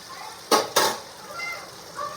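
Food fries in a pan during the making of dal and palak curry, with two sharp sizzling bursts close together when it is stirred, then a quieter, softer crackle of frying.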